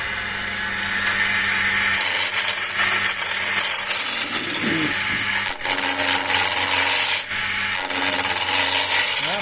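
A skew chisel cuts a wooden walking stick turning on a lathe, giving a loud, continuous rasping shave with the motor hum beneath and brief dips as the tool lifts off the wood.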